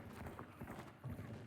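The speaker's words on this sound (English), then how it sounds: "Where's that horse noise coming from?" Horse hooves clip-clopping in an online multiplayer game, a steady run of close, fairly loud hoofbeats with a slight swell near the end, no talk over it.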